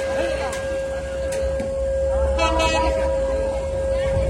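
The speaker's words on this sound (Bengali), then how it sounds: "তো আপনারা উপভোগ করুন বেনাপোল এক্সপ্রেস ট্রেনের ছুটে চলা।" Benapole Express passenger train rolling past Gendaria station on the Padma Bridge rail line, a steady low rumble with a sustained tonal whine held throughout the clip, with no voices.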